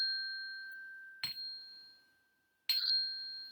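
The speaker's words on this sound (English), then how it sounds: "And with the sound of the chime," A meditation chime is struck twice, each strike ringing out with a clear, sustained tone that slowly decays in an otherwise quiet space.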